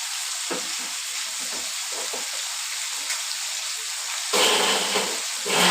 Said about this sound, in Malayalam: ഈ എണ്ണ മാങ്ങ വറക്കട്ടെ